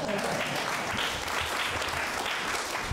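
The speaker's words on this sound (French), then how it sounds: "Vous pouvez les applaudir parce que c'est pas facile" An audience at a vocal coaching session applauds the singers with a steady, moderately quiet patter of clapping that continues evenly for a few seconds.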